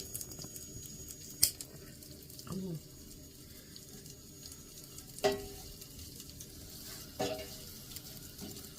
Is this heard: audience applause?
no